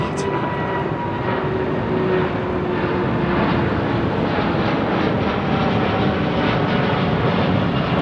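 A Korean Air Boeing 747 departs Heathrow with a heavy, sustained engine roar that stays loud and fairly even throughout, a broad rumbling wash without voices.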